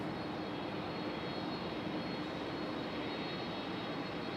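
A JetBlue airliner on the runway at Raleigh-Durham International Airport gives off a steady, broad engine roar that holds at an even level throughout, with no voices.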